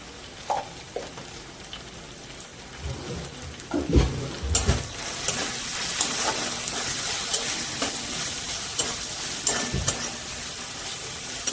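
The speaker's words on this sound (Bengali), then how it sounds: "এবার ভালো করে কষতে হবে, আদা রসুনের কাঁচা গন্ধটা যাওয়া অবধি।" Ginger-garlic paste with turmeric sautéing in a pan, a steady sizzle broken by a few scrapes and clanks of stirring, with a short burst of running water near the start.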